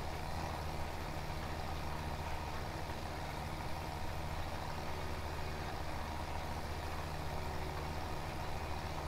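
A tractor engine in Farming Simulator 17 drones steadily and loudly, with a constant low rumble and no change in rhythm, alone without voices.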